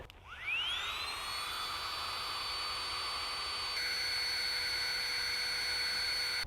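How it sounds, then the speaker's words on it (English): A Flextail Tiny Pump 2X electric pump spins up with a rising whine, then holds a steady high-pitched motorized drone while inflating a mattress, with a slight shift in tone partway through; close and continuous, no talking. "this is one of those flex tail tiny pump 2Xs, and it just makes pumping up a mattress a lot easier"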